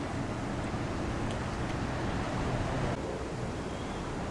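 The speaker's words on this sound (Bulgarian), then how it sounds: "Ето там е този водовъртежа." Rushing water at the Niagara Falls whirlpool on the Canadian side, a steady, dense broadband roar that holds loud and unbroken throughout, with no talk over it.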